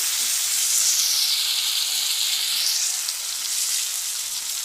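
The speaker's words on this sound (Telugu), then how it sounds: "టమాటా ముక్కలు కూడా కొంచెం వేగాలి." Tomato pieces fry in a pan for a khadi dal masala curry, giving a continuous bright, hissing sizzle that stays loud and even, heard close with nothing else over it.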